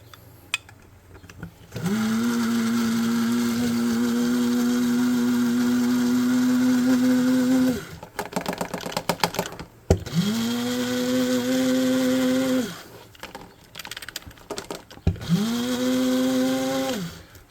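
A blender grinds yellow sponge into flocking in three separate bursts: a long whirring run, then two shorter ones, with quiet clatter and handling noises in the gaps.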